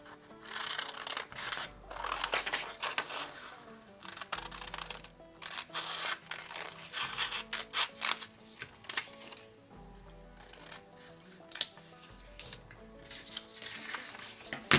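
Scissors cutting fabric pattern pieces for a draped blouse, giving faint, close snips and paper-like rustling in an irregular rhythm over about fifteen seconds in a quiet room.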